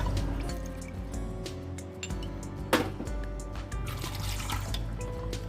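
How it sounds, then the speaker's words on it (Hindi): About two cups of water are poured into a pot lined with rose petals for homemade rose water, a continuous trickling and dribbling pour with a few light clinks, close and fairly loud. "ये 2 कप मैंने पानी डाल दिया।"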